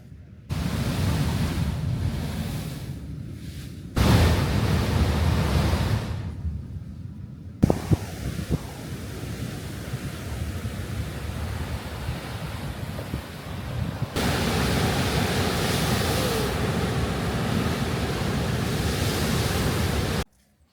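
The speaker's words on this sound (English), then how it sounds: "when days when the sea's quite rough, a bit like today, it blasts up air through these vents and makes quite a large sound" Rough sea on a rocky coast forcing air up through rock vents, a loud, continuous roaring rush like surf, buffeted by heavy wind on the microphone, with abrupt shifts in intensity and no talk.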